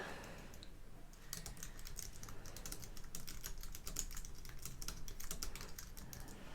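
Fingers type on a computer keyboard in a quiet room, a fairly faint but steady stream of close, rapid key clicks with brief pauses and no voices.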